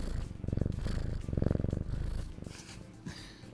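A cat purrs close up in a loud, rhythmic, rumbling pulse that swells and fades in regular breaths, softening toward the end, with no talking over it.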